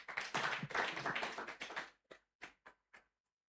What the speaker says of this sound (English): Another round of applause for him, please.